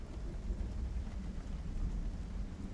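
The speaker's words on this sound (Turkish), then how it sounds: "Çok fazla yağmur sesi var be." Heavy rain in the video game Project Zomboid pours as a dense, continuous low roar, steady and enveloping, with no speech.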